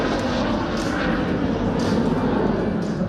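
An Aero L-29 Delfin jet trainer flies at the BIAS 2019 airshow in Romania, a loud sustained engine roar that swells and holds with a broad hiss.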